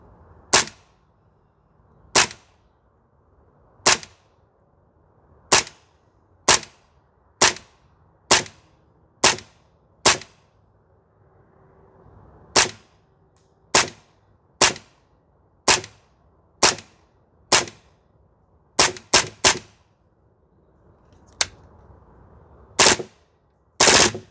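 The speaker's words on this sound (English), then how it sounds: "you full auto it and all the rounds just fly out there" A Tokyo Marui MP7A1 gas blowback airsoft rifle on a range: sharp, loud cracks repeat roughly once a second, sometimes in quick pairs, with brief quiet gaps between them.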